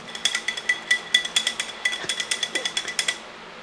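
Thick curd is mashed in a bowl with a metal utensil, a quick run of about twenty sharp clinking taps in an uneven rhythm, close and clear against a quiet background, with no one talking.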